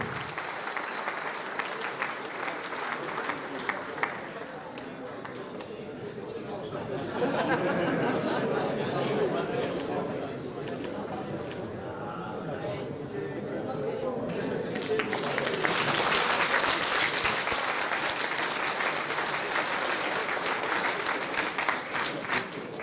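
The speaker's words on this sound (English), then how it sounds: "Let's give them a big round of applause." Sustained audience applause fills a hall during prize-giving at the closing ceremony of the 32nd World Puzzle Championship in Eger, Hungary, with crowd chatter mixed in and the clapping swelling louder toward the end.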